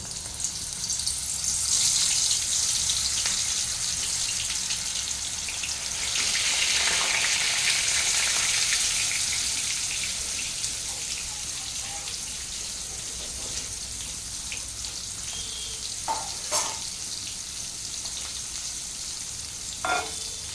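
Pieces of pointed gourd (potol) sizzle in hot oil in a pan, a soft, steady frying hiss that swells and fades, with a few brief clinks near the end.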